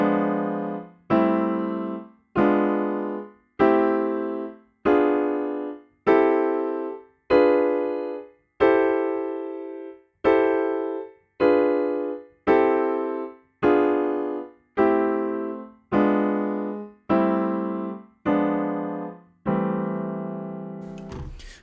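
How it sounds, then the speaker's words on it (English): Jazzy 1950s-style block chords played as major 6 voicings interspersed with diminished passing chords, climbing up a scale: about fifteen evenly spaced, sustained chord strikes, each decaying before the next, ending on a longer held chord, with no talk. "using a major 6 chord rather than just a straight major chord"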